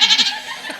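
A goat lets out a single short, close bleat, loud and wavering, with no talking over it.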